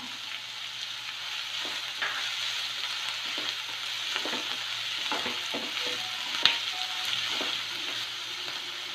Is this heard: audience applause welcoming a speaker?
no